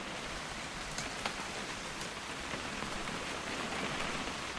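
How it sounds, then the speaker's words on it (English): Steady, dense rain falls in a video game, a continuous hiss of drops with a few sharper splashes, filling the scene at a constant moderate level with no voices. "It's gonna rain the whole weekend, isn't it?"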